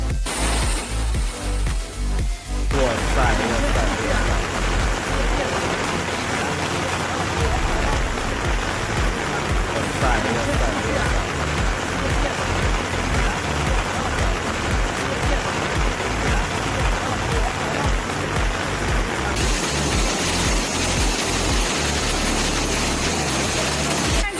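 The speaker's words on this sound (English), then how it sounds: "Due to torrential rains and subsequent flooding, infrastructure was damaged" Heavy rain pours steadily in a dense, continuous hiss, with a low engine rumble running underneath throughout.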